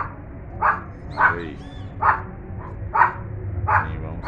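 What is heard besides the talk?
small dog barking angrily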